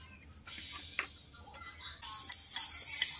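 Oil hisses into a hot frying pan as pork belly is fried with fish sauce, a close, steady sizzle that jumps to a loud, bright crackle partway through, with no talking.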